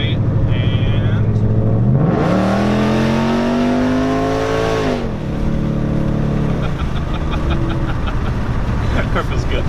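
A loud 2012 Ford Mustang GT with a Coyote V8 and longtube headers revs and accelerates hard, its engine note climbing steeply then holding before easing off, close up with people talking over it.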